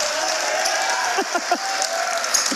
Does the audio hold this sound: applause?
yes